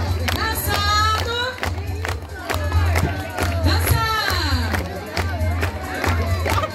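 Festive crowd at a São Pedro and São Paulo celebration dance, clapping and shouting in a lively, continuous din with scattered rhythmic claps and cheers, voices calling out over the noise.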